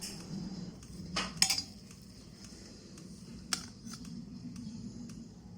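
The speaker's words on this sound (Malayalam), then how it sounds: "ഇനി നമുക്ക് ഇതൊന്ന് സ്പൂൺ വെച്ച് ഒന്ന് നല്ല രീതിയിലൊന്ന് മിക്സ് ചെയ്തെടുത്താൽ മതിയാകും" A spoon scrapes and clinks against a pot while cooked rice is mixed, giving a few sharp metallic taps over a quiet kitchen background.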